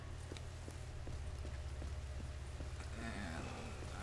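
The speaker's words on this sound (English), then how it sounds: "And I believe the rain just put it out." Light rain pattering in the video game The Forest, a soft steady patter with scattered drop ticks over a low background hum, fairly faint and without talk.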